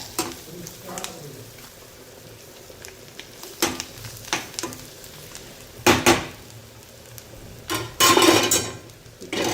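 Goat tripe pota fry cooks in a pan with spicy masala and coriander, giving a soft sizzle punctuated by scraping stirs and louder bursts of clattering spatula against the pan.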